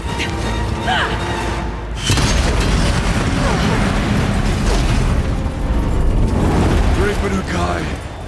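Explosive ammo detonations in Horizon Zero Dawn's Frozen Wilds, loud booming bursts layered over dense game combat noise, with a character voice shouting near the start.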